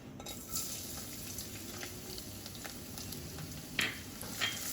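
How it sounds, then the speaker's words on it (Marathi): Finely chopped long-cut garlic fries in hot oil in a pan, a soft, steady sizzle with a few faint clinks of a utensil, close but fairly quiet, with no talking. "तेल गरमच आहे. आता आपण ह्यात पहिल्यांदा घालूया लसूण"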